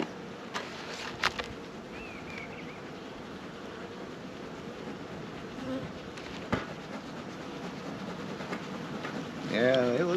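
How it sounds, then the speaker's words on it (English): Honeybees hum steadily throughout an opened spring hive during a hive check, a dense low drone with occasional closer buzzes and a brief burst near the end, and soft handling noises in the background. "Yeah, they look like a lot of bees"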